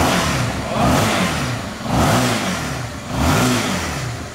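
An XR motorcycle engine with a loud, aggressive exhaust note revs up three times in slow, regular swells, each rising and falling back toward idle, heard up close with no talk.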